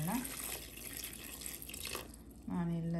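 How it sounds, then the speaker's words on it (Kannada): Water running from a tap into a cooking pot for a Kannada ridge gourd and green gram bassaaru, a steady splashing stream that fills the clip at close range, with a few brief dishware sounds. "ಅದಕ್ಕೆ ಎಷ್ಟು ಬೇಕೋ ಅಷ್ಟು ನೀರನ್ನ ಹಾಕ್ಕೊಳ್ಳೋಣ"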